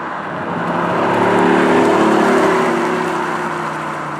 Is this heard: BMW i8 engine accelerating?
yes